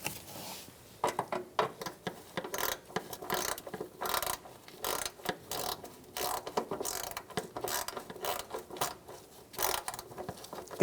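Ratcheting wrench snugging down a bolt on the front bumper support inside the wheel well of a 1988-1999 GMC K1500 pickup, quick repeated clicking strokes in uneven bursts, close up with no talking.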